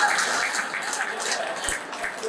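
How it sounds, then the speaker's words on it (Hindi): Applause from an audience at a poetry gathering, a steady broad wash of clapping lasting the whole moment, fairly loud and close, with a voice faintly mixed in. "अरे जोरदार तालियां दे, जोरदार तालियां।"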